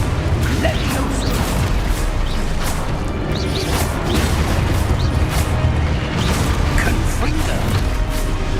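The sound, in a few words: Levioso spell cast in the video game Hogwarts Legacy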